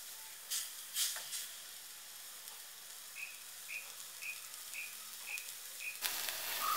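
A pan of mango pickle mixture with added water simmers with a low, steady sizzling hiss, a few soft clinks early on, and a rush of louder bubbling near the end as it comes to a boil.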